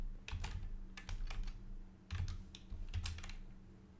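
Quick bursts of typing on a computer keyboard, several clustered runs of key clicks with short pauses between them, close and fairly quiet.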